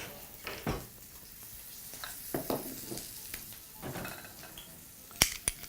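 Chicken breast fries in a pan over medium to high heat, giving a soft steady sizzle broken by scattered utensil scrapes and clinks against the cookware. No talking.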